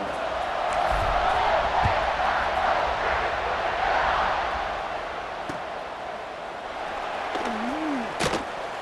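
A stadium crowd roars before a kickoff in EA Sports College Football 26, a broad sustained swell that is fuller early on, then eases to a lower steady murmur with a few isolated thumps.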